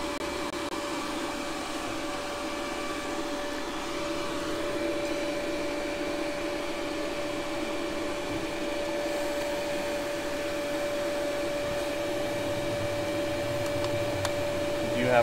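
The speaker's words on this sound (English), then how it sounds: "We're going to pull a vacuum on our pump to make sure it comes down to the rated on the nameplate." HVAC vacuum pump running steadily during a system recovery job, a constant mechanical whine and hum that stays even throughout, with faint voices now and then.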